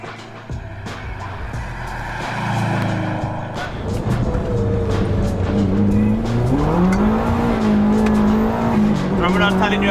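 A Subaru 22B replica four-wheel-drive car accelerates hard and slides sideways, its engine note climbing steadily through the revs with tire squeal, while someone talks over it.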